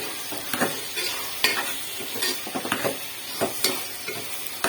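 Tomatoes with chili, coriander, turmeric and garam masala sautéing in a pan for a mutton, brinjal and potato kulambu: steady close sizzle broken by repeated scraping stirs, with no talking.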